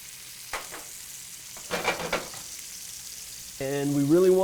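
Fresh chopped garlic hits a pan of onions just turning translucent, giving a soft, low sizzle with a few brief clinks of stirring midway, then a louder tonal, voice-like hum near the end.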